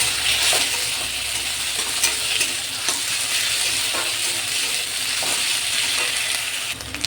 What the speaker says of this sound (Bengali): এবার আমি আদা লঙ্কা আর রসুন বাটাটা দিয়ে দিলাম। এটাকেও পেঁয়াজের সঙ্গে ভালো করে ভেজে নেব।